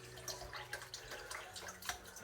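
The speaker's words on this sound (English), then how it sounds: "washing up the fork or the knife or whatever this thing is" Cutlery, a fork or knife, is washed up under a running tap: a faint, steady trickle of water with small irregular splashes and drips. No one speaks.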